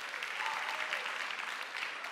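Church congregation clapping for a visiting missionary, an even, sustained round of applause from many hands that stays at one level for the whole stretch.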